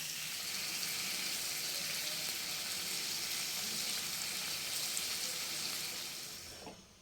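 Bengali fish curry bubbling in a pan after water is added, a steady hissing simmer at low level that holds evenly and fades out near the end, with no talking.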